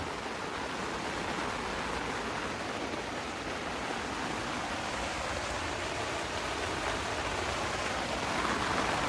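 Steady rain drums on a cabin tent at a campsite, an even hiss that never lets up across the whole stretch, with no voices.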